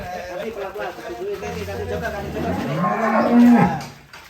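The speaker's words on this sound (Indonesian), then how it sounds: "Tuh banyak sekali sapinya." Giant cattle in a barn give a long, loud, drawn-out moo close by, rising toward the end, while children and adults chatter around them.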